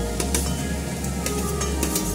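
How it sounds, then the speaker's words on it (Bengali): Fried potatoes tip into a pan of sizzling spice masala for a Bengali curry, giving a steady close crackle and sizzle with a few faint utensil clinks, and no voices. "কষানো হয়ে গেছে, এবার আমি আলুগুলো, ভাজা আলুগুলো ছেড়ে দেবো।"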